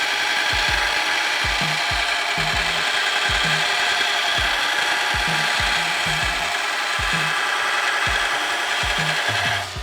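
A used 36 grit abrasive belt grinds knife steel with a constant loud, gritty roar, a rapid low flapping thump from the belt running underneath throughout, with no voices.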